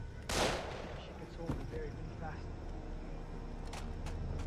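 Gunfire in the jungle shooter Far Cry 3, one sharp loud shot followed by a few fainter bursts against steady game ambience, with a person reacting in the background.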